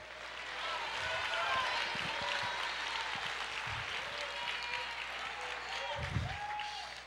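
Church congregation applauding during a Portuguese-language worship sermon, a steady wash of clapping filling the clip throughout, with occasional low thumps and a voice speaking over it.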